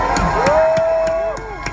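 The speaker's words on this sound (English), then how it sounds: "That was a cue for clapping." A crowd at a MongoDB IPO opening-bell celebration in Times Square cheers, with a long whistle and a few rhythmic claps, a lively burst of noise up close.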